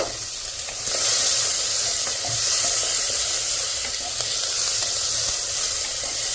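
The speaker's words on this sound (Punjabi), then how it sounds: "ਲਓ ਜੀ ਮਸਾਲੇ ਨੂੰ ਚੰਗੀ ਤਰ੍ਹਾਂ ਭੁੰਨਣਾ ਆਪਾਂ" Onion, green chilli and spices sizzle steadily in a hot pan while making a besan gatte dish, a continuous loud frying hiss with occasional stirring scrapes and no voices.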